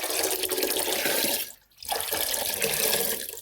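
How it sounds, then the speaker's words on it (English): Water runs steadily from a tap into a big pot, about six quarts, a close, hissing splash that stops briefly and then resumes. "I'm gonna take about 6 quarts of water and put them inside this big pot."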